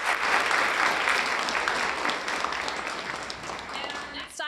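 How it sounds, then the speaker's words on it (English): Meeting audience applauding students who led the pledge, a sustained, full round of clapping filling the room with voices murmuring underneath. "a big round of applause again for the students who led us in the pledge."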